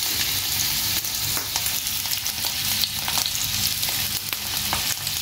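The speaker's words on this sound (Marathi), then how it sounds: "तेल गरम झाले तो हांव हितून घालता म्हजी फिश" Sea bass fries in hot oil in a pan, giving a loud, steady, close sizzle and crackle with scattered pops throughout and no talk.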